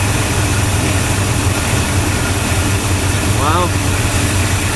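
Engine of a 2011 Ram truck running at a steady idle, a loud continuous low rumble close by, with a man's brief remark over it.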